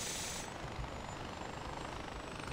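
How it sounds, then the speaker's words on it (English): A helicopter in the video game Far Cry 4 runs steadily with a loud, dense rotor and engine roar, close and continuous throughout, with no talk. "let's see if this chopper will work"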